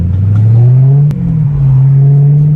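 A BMW E92 M3 fitted with an M Performance exhaust burbles at low revs around 2,000 RPM, a steady deep drone heard from inside the car with a slight dip and recovery midway and a couple of sharp clicks.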